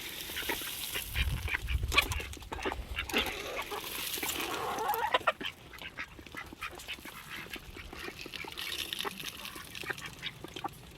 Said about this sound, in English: There's one of the ducks.